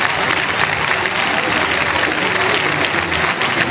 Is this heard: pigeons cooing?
no